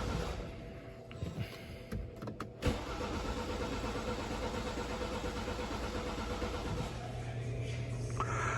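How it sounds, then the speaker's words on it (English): A 2019 BMW 530i B46 engine cranks over with a few uneven starter bursts, then settles into a steady whirring spin, fairly quiet and without talk. "I'm just gonna let it spin over a few times just to get that oil circulating through the engine"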